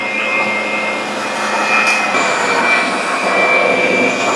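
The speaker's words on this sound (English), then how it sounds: "if you don't have one of these mixers, you can just use a handheld mixer" An electric mixer runs steadily and loudly throughout, whipping a mango ice box cake mixture until stiff, with a constant whirring drone and a faint high whine.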